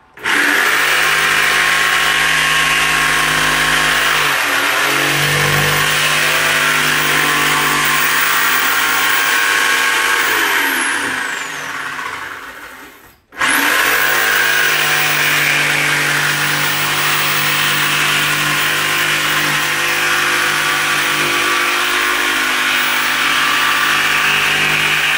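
A power sander whines loudly and steadily for a long stretch, briefly spinning down and cutting out before starting up again at full strength.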